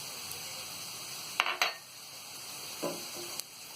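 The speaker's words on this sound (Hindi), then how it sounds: "इन चीजों को अच्छी तरह हम मिक्स कर देंगे।" Turmeric and red chili powder stirred into golden-brown fried onions for sarson ka saag, with a faint steady sizzle under a few brief, close spoon scrapes and clinks against the pan.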